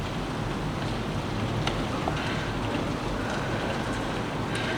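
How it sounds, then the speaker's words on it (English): Rain falling outside on a morning, a soft, steady wash of drops with faint wind, heard at a distance and fairly quiet, with no talking. "I get to listen to the rain every day"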